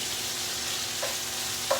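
Bacon frying in a pot, a steady close hiss and sizzle with a couple of brief sharp pops near the end, no talk.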